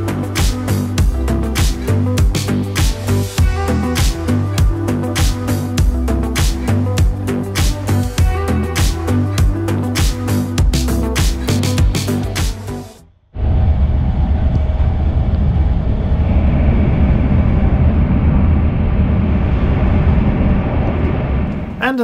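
An IRE 200 train runs on the Ulm-Wendlingen high-speed line, heard from inside as a loud, continuous rumble with rhythmic clatter. Partway through, the sound abruptly shifts to a smoother, denser roar.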